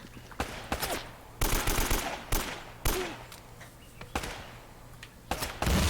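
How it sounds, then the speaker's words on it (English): Bursts of gunfire aimed at the player in Uncharted: Drake's Fortune, sharp volleys and single shots arriving in irregular clusters, some close and loud, others farther off, with no voices over them. "So many people are shooting me."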